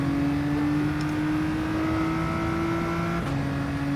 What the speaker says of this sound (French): Le moteur est un peu fort.